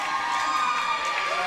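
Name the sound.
crowd cheering at a roller derby game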